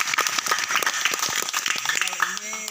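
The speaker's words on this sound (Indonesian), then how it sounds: "Tepuk tangan untuk beliau." Audience applause at an anniversary gathering, busy scattered clapping that fills the clip, with voices and some tonal sound rising near the end.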